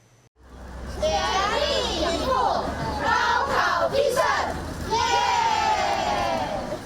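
Parents cheering students outside a Gaokao exam site in Guangzhou, a loud crowd of voices shouting and whooping together in rising and falling waves, close and sustained.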